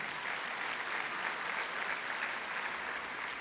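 A short burst of dense congregation applause in a church, even and sustained for a few seconds at moderate distance.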